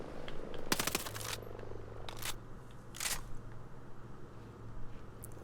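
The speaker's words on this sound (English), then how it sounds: "Let me just shoot this chopper down." Gunfire aimed at a helicopter in the video game Ghost Recon Breakpoint: a dense burst of rapid shots up front, then a few separate loud blasts spaced over several seconds, with a steady low rotor hum running underneath.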